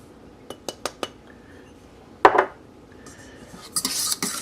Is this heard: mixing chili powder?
yes